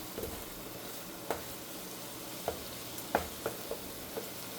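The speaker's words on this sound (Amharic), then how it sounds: "ወተቱ እንደዚህ ሲፈላ ታወጡታላችሁ።" Milk with tea spice and a little ginger boils in a pot with a quiet, constant bubbling hiss. Occasional soft clicks and taps break through it.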